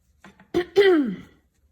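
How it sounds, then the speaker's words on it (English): A single close throat clearing, a short rough rasp followed by a brief voiced grunt, in an otherwise quiet room. "as soon as I clear my throat"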